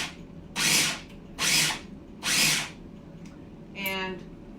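A food chopper chopping walnuts for apple walnut brownies: three loud whirring bursts of roughly half a second each, evenly spaced, then a shorter buzzing rattle, close up in a quiet kitchen.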